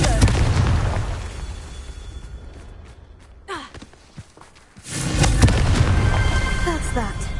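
The Confringo fire spell in Hogwarts Legacy goes off as a loud rumbling blast, then the scene falls quiet with scattered thuds before a second heavy rush of roaring sound.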